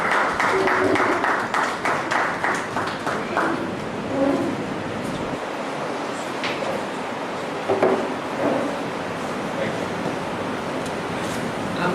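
An audience claps steadily through a dense, sustained round of applause at a university event welcoming newly employed academic staff, with a few voices audible early on.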